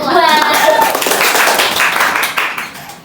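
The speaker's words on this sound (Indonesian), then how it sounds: "Berikan tepuk tangan untuk kelompok 2" A roomful of people claps loudly for a student group about to present, the dense applause holding steady before fading toward the end.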